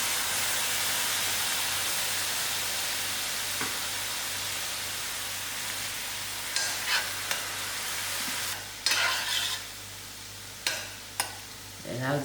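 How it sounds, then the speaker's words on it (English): Grated onions frying in melted butter for a prawn and chicken curry, a steady close sizzle and hiss with a few sharp spatula taps and scrapes against the pan in the later seconds. "While the butter is melting, I'm going to add in my"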